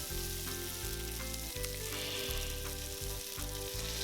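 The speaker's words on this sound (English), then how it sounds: "transfer in the onion, and then just saute or stir-fry it until the aroma comes out" Chopped onion stir-fries in vegetable oil in a pan for Singapore-style rice noodles. The sizzle is steady and close, broken by repeated stirring scrapes, with no voices.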